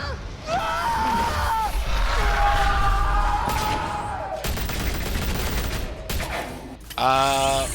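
Gunfire in a Gotham video game: bursts of shots and impacts amid game sound effects and tonal cues, fairly loud, with rattling volleys in the middle and a ringing effect at the end.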